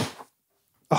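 A person sneezes twice within about a second, each sneeze a short, close, loud burst separated by a moment of silence.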